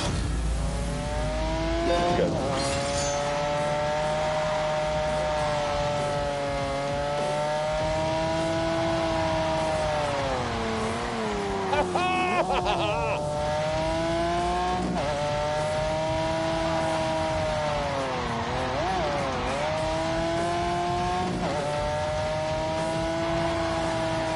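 A Lamborghini in a racing video game revs hard, its engine pitch rising and falling through gear changes, with bursts of tyre squeal midway; loud and continuous, with no talking.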